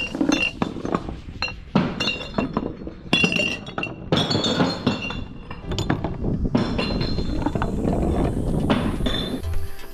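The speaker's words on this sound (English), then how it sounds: "We have finally found a glass recycling spot." Glass bottles clink and clatter at a glass recycling spot, a dense series of bright, ringing knocks and occasional crashing impacts, close and fairly loud, followed by a steady engine-like hum.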